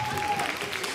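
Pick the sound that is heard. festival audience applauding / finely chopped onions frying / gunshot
festival audience applauding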